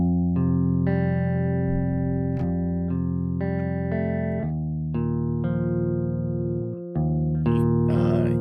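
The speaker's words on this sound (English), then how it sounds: "play a snippet of the guitar by itself so you can hear what it actually sounded like without any effects" A clean electric guitar plays sustained notes and chords, unprocessed and dry, one phrase ringing into the next with no distortion.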